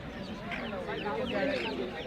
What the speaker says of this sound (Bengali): এখানে একটা ভাইয়া মাসান অনেক বড় একটা টার্কি মোরগ কিনলেন